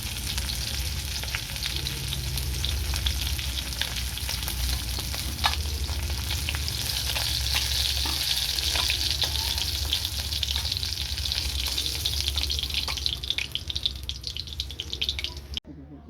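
Fish frying in oil in a pan for a Bengali egg-and-fish jhal paturi, a loud, dense sizzle with crackling spatters that runs steadily throughout and cuts off abruptly near the end.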